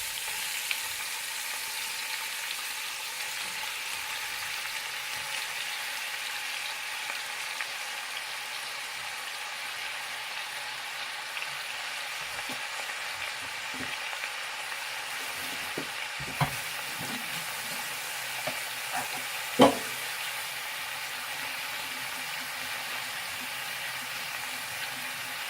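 Ground beef sizzles steadily in a pan for a sustained stretch as it is broken up, with scattered scraping and stirring knocks from a utensil and one sharper clack near the end.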